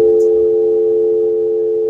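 Steady telephone dial tone on a radio call-in line after a caller drops, a continuous loud hum running unbroken the whole time with no voices.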